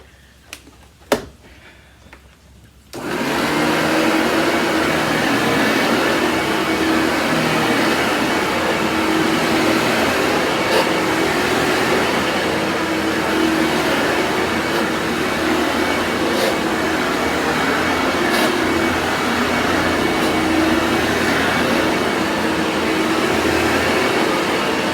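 A Vorwerk VK121 upright vacuum with an ET340 powerhead runs on carpet, a steady, loud whirring drone that starts abruptly after a few seconds of quiet handling noise and continues without talk.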